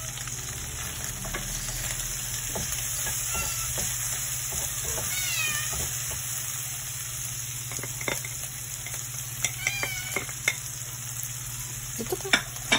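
Onions fry in a pan for green mango bagoong fried rice, giving off a steady loud sizzle throughout, with a few short high chirping tones and light clicks over it.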